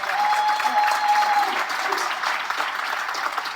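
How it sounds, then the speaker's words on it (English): An audience at a 2024 State of the City address in Whitehall gives a sustained round of applause, dense steady clapping throughout with a faint voice briefly under it. "Please give them a round of applause."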